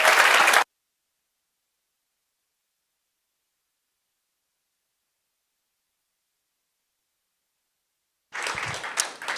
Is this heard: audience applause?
yes